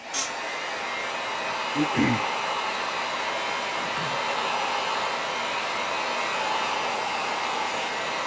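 A heat gun blows steadily while drying paint on a model mask, a constant breathy roar after a couple of brief knocks near the start.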